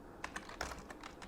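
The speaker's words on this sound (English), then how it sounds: "we're going to type in facial" Soft, quick keystrokes on a computer keyboard tap out a short burst of typing, faint and close, with no voices.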